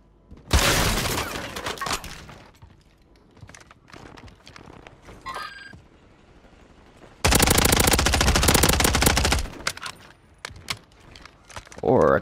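Sustained automatic gunfire from an MTZ-556 rifle in Warzone 3, with a short burst early on and a long, loud continuous stream of rapid shots later, amid game effects and scattered in-game sounds.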